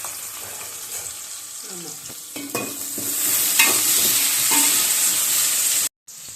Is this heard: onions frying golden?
yes